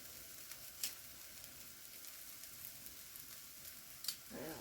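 Beef for a curry fries in a pan with a steady, even sizzle, close and fairly quiet, with a couple of brief clatters of utensils.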